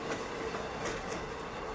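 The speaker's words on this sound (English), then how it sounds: "another train reversed into the station." A train reversing into a station, heard as a steady broad rumble of rolling wheels with faint rhythmic clicks, moderately loud and continuous over a short stretch, with no voices.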